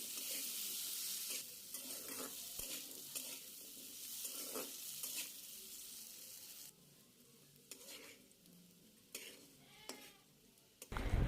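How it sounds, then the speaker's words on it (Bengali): Potatoes fry in hot oil with turmeric and chili powder for an egg curry, giving a steady broadband sizzle with scraping stir strokes and occasional utensil clinks against the pan, close by and without talk. "এখন দিয়ে দেব আলু। আলুটাকে আমি কিছুক্ষণ ভেজে নেব।"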